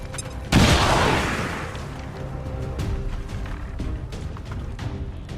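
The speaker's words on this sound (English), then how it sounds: "Grenade!" A grenade blasts in the XCOM video game, a sudden loud boom that crashes in and then rumbles away over a few seconds under game noise.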